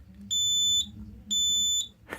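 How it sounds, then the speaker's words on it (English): A Simplex 4005 fire alarm panel sounds two long, loud electronic tones, each about half a second, separated by a short gap, close and clear over a low background hum. "we've got a fire alarm, and I don't even have anything plugged in."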